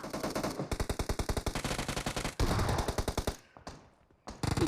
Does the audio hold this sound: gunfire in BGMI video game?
yes